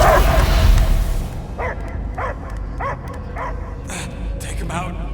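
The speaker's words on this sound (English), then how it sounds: "I hear only barking." A creature in Marvel's Guardians of the Galaxy game gives a run of six or seven sharp, evenly spaced barks and yips, close and clear, after a loud opening burst of noise.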